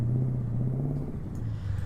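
A Mack Superliner truck engine in American Truck Simulator, an Australian-spec rig revved to around 2700, gives a deep, steady, loud rumble with a low droning tone that holds throughout, no voices over it.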